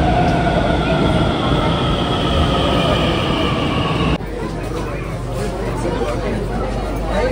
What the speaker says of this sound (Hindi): मेट्रो आ चुका है